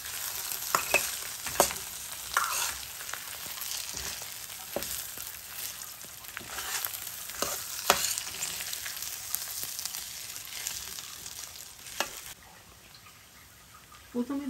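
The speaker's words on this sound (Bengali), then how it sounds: "অল্প কিছু সময় আমি একটু ভেজে নেব হালকা।" Eggplant slices fry lightly in a pan, a steady bright sizzle with scattered pops and crackles running throughout, a quieter stretch near the end.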